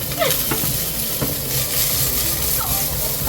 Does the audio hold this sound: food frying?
yes